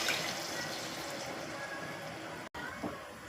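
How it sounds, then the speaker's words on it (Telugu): Tamarind sauce poured into a cooking pot, a continuous close watery rush and splash that runs almost without break. "చింతకాయ పులుసు పోసేస్తున్నాం"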